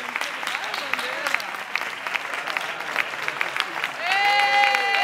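Audience applause at a kizomba dance championship show, dense steady clapping from a crowd, swelling louder near the end with cheering voices and a shout over it.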